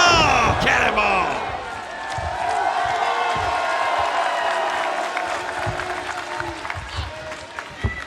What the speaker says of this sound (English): Crowd coming alive for the Mack.